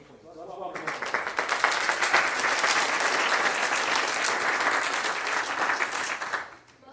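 Sustained, dense applause from a large audience at an honors night fills several seconds, swelling quickly, holding steady and then fading at the end.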